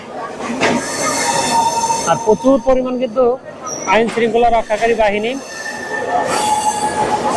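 Chilahati Express train running, its wheels squealing loudly along the rails near Airport railway station en route to Joydebpur, with long metallic screeches rising and falling under someone talking throughout.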